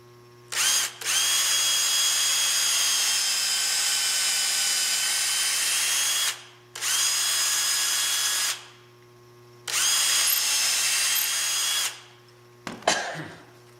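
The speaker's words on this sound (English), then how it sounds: "Drill a hole here." Three long bursts of a whining electric drill running steadily while drilling a hole in a shop-made Festool track clip, separated by short pauses, with a brief clatter at the end.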